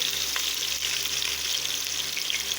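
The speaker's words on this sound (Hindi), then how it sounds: "घी को मैंने गर्म होने के लिए रख दिया है। इसमें मैंने ये एक मीडियम साइज़ का प्याज डाल दिया है।" A medium onion frying in hot ghee gives a steady, soft sizzle that holds evenly throughout, close and continuous with no talk.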